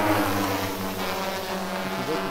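A DJI Matrice 600 hexacopter drone spins up for a waypoint mapping mission, producing a loud, steady multi-rotor buzz with strong harmonic tones that holds continuously, with a voice talking over it.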